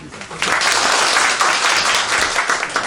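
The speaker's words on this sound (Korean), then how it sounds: "큰 박수 부탁드리겠습니다" Audience applause at a residents' meeting with the city mayor in Dajeong-dong, Sejong, dense and steady after a brief lead-in, continuing for the rest of the clip.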